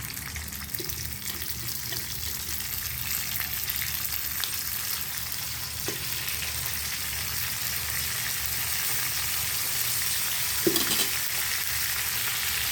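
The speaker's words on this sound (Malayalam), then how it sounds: "ചൂടായി തുടങ്ങി അപ്പോൾ ഇതിങ്ങനെ നമുക്ക് ഇട്ട് കൊടുക്കാം" Prawns fry in hot oil with a steady, even sizzle and occasional soft clinks and pops, close and moderately loud, without any talk.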